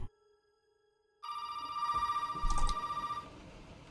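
A telephone rings in the Resident Evil 7 video game, a loud electronic bell with steady repeated trills that begins suddenly after a quiet opening and continues without any talk over it.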